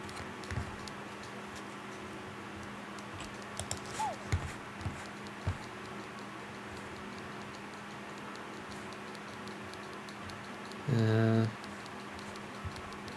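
A woman typing on a typewriter in a video game, with light, irregular key ticks at moderate distance over a steady background hum, and a brief tonal chime near the end.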